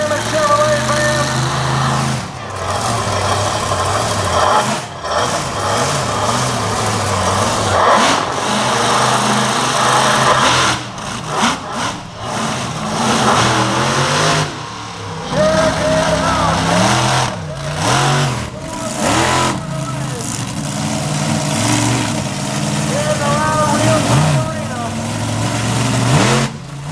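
The Storm Damage Chevrolet monster truck roars loudly at a freestyle event in Plymouth Meeting, Pennsylvania, its engine revving and surging continuously while an announcer talks over a noisy arena crowd.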